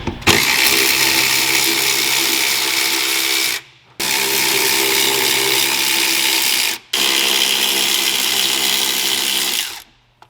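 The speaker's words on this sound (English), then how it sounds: "we're gonna go ahead and unbolt the master cylinder off of the brake booster" A power ratchet unbolts the master cylinder from the brake booster on an 1982 vehicle, running in three sustained loud whirring bursts separated by brief pauses.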